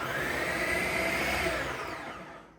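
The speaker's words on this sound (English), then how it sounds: "let's just mix up this flour for a moment" Electric mixer whirring steadily through flour for homemade empanada dough, a loud continuous motor buzz that winds down and fades near the end.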